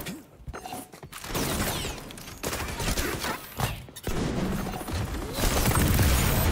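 Gunfire in the video game XDefiant: rapid bursts of automatic shots and loud booms, broken by short quiet gaps and mechanical reload clicks, close and punchy throughout.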